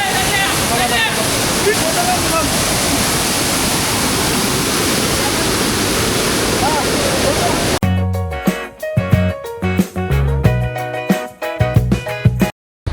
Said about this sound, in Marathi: पोहोचले कोंडेश्वर धबधब्याच्या इथं